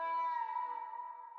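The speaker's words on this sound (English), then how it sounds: "So next up I'm using a pain accent." A pain accent one-shot sample from FL Studio plays alone: a single sustained, buzzy tone with rich overtones that holds for about a second and a half, then cuts off. It is fairly quiet.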